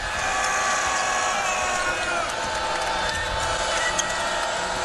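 Steady, dense crowd din fills a basketball arena during an ACC game between No. 8 Virginia Tech and North Carolina, a continuous loud roar with scattered whoops and no breaks.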